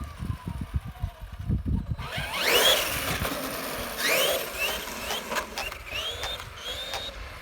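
A Traxxas X-Maxx RC truck on 6S lipos accelerates hard and pulls wheelies, its electric motor whining up in rising surges between bursts of gravel and tire noise, loud and close.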